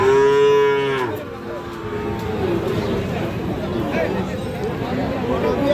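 A cow lets out a loud, drawn-out moo close by at a livestock market selling Friesian and crossbred bull calves, then the moo fades into steady crowd babble and chatter.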